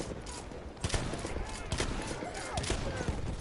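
Rapid gunfire crackles through a video game shooter, bursts of close sharp shots layered over a busy battle din, with a voice talking in the background.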